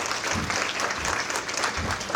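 A short burst of audience clapping follows a nun's talk on the values the poor can teach, sounding steady and fairly soft, with no speech over it.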